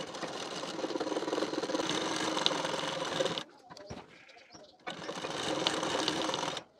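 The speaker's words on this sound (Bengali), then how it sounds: "নিয়ে 1/2 ইঞ্চের গ্যাপিং দিয়ে সেলাই দিয়ে নেবেন।" A sewing machine runs a steady close whir as it sews a blouse shoulder seam at a half-inch allowance. It stops briefly partway through, then starts up again, and there is no speech over it.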